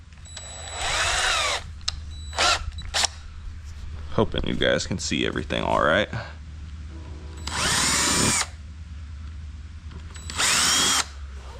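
Several bursts of a power drill whine loudly, alternating with a person speaking in between; the drill runs in short, separate pulls close by.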